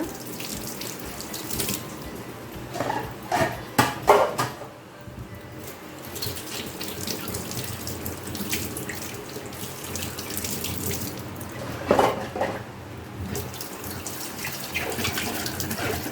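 Tap water running steadily into a sink while parts of a Hestia Nutri-Max cold-press slow juicer are rinsed, with splashes, clatters of plastic pieces and shifting flow, close by.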